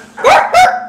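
Parrots at a PetSmart imitate a dog, producing two short, loud bark-like calls close by in quick succession.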